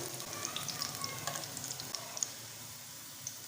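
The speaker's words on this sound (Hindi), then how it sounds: "तो माशाल्लाह से हमारे कबाब अच्छे से फ्राई हो गए हैं" Eggplant kebabs frying in oil, a soft, steady sizzle with scattered small pops and crackles, fairly quiet and close.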